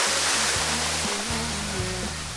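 A waterfall on a Korean mountain trail gives a steady, dense rushing roar that fills the whole clip, with low sustained tones running underneath.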